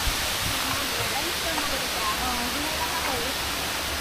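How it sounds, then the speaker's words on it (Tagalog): Dao Falls, a tall waterfall in Samboan, Cebu, Philippines, roars with a loud, steady broadband rush of falling water. A person's voice is faintly audible under the constant noise. "Goodbye, Dao Falls."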